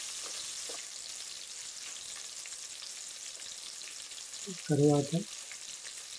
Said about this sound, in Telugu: ఇవన్నీ బాగా వేగిన తర్వాత తరిగిన పచ్చిమిర్చిని కూడా వేసుకొని ఒకసారి బాగా కలుపుకోవాలి.